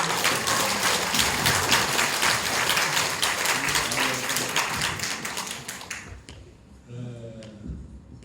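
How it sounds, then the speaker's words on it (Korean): Audience at a Saemaul workshop lecture in Pocheon applauding, a dense burst of clapping that fades out after about six seconds, followed by a voice speaking. "박수 쳐드릴까요?"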